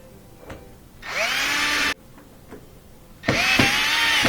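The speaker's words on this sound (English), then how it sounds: "We're going to put those screws in." Power drill driving screws into a Miele dishwasher during a door repair, heard as two loud whirring bursts with rising pitch, separated by quieter handling clicks.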